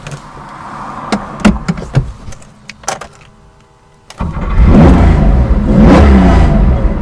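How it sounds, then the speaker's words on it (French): A Porsche 911 2.4 T with a flat-six engine and a SCART exhaust gets ready to start with a few clicks and clunks, then fires up and revs loudly and close, a deep, throaty roar that keeps going. "Et là on entend tout de suite ce flat 6 à la sonorité incroyable qui est réveillée par l'échappement"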